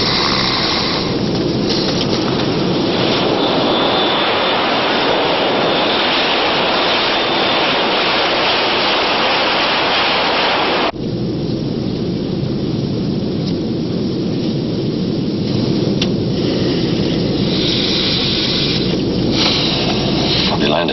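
An aircraft in flight fills the air with a loud, continuous engine roar and rushing noise, steady throughout apart from a sudden shift in tone about halfway.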